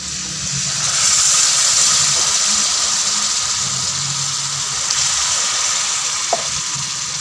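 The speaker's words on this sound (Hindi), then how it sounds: "हुण असीं इहदे विच पानी शामिल करने।" Water added to rajma (kidney beans) in a pot during village-style home cooking, giving a steady loud sizzle and hiss that runs throughout with faint stirring.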